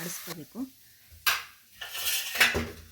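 Spoon scraping and clinking against a metal pan while coriander powder and chili powder are stirred in for bitter gourd sambar, in several loud bursts of scraping with quiet gaps between.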